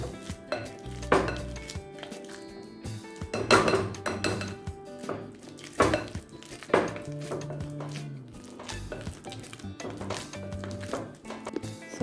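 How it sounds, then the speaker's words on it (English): A potato masher presses overripe bananas in a bowl for Jamaican banana fritters. Repeated dull thuds and clinks of the masher against the dish come at an uneven rhythm, close up, with no talk. "And I'm going to use this potato masher to mash them."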